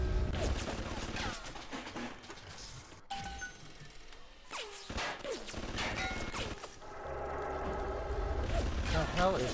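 Gunfire from the video game BioShock, with scattered shots, crashes and mechanical clatter mixed through a busy game scene; players talk over the action in places.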